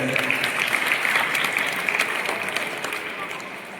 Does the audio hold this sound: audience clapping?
yes